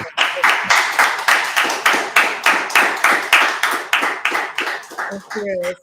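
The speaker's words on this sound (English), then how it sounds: "give the chairman a round of applause for that brilliant presentation" A brisk round of clapping, many hands beating in an even rapid rhythm, close and loud, trailing off at the end with a brief voice.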